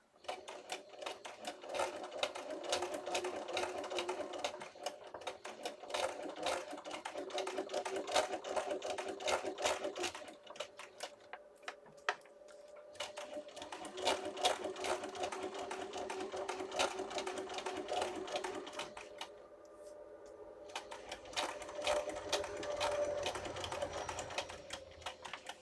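A sewing machine stitches through paper lunch sacks, a steady mechanical whir running almost continuously with a few brief pauses and restarts.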